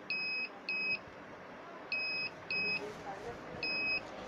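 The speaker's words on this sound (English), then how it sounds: "it senses the obstacle and gives alert by this buzzer" Five short electronic beeps from an ultrasonic obstacle-sensor buzzer in an irregular pattern, clear and fairly close, each a steady two-tone buzz lasting about half a second, over low background noise.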